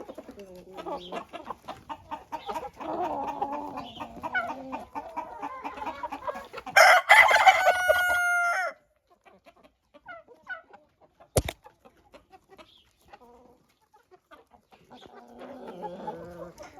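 Domestic chickens clucking in a backyard flock, with a rooster letting out a loud, close crow midway, then scattered soft clucks and pecking over quieter stretches.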